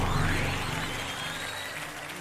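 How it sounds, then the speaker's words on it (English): Steady applause from a small group in the video game Umineko: When They Cry Episode 7, moderately loud, with a voice and music faintly mixed in beneath it, ending in a brief louder burst. "There's a Chris applause and a mocking laugh."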